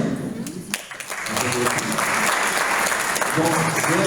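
An audience at a seniors' community meal in Chissay applauds the organiser who decorated the tables and stage, steady dense clapping that swells and holds after a brief dip near the start, with a voice over it.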